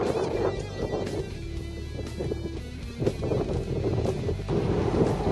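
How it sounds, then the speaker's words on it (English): Wind gusting steadily across a kayak drifting on the Yellowstone River, a continuous close rumble of wind against the microphone with faint water movement beneath and no talk. "So far, the wind and the weather has kind of plagued us"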